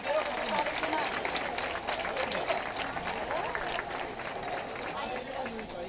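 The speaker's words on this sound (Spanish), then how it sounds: "Aplauso para ella." An audience at a neighbourhood's 50th anniversary celebration applauds, a dense, steady patter of many hands at a moderate distance, fading slightly toward the end with crowd murmur mixed in.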